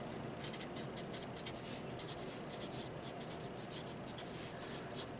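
Pen or marker scratching steadily across a surface while a graph of a shifted sine curve is sketched by hand, a continuous close, quiet rubbing with short strokes and no talking.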